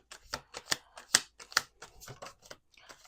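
Crisp riffling bursts of playing cards being shuffled, repeated several times in quick succession, close and fairly quiet.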